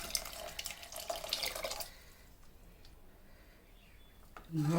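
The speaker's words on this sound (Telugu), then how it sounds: "కొంచెం వాటర్ వేస్తున్నాను." Water pours into a pan of thick dal curry. It runs as a short splashing stream, close and fairly quiet, then fades into a low hiss. A faint voice sound comes near the end.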